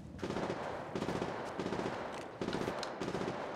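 Rapid automatic gunfire from Apex Legends Mobile rattles out in repeated loud bursts separated by brief pauses, with no speech over it.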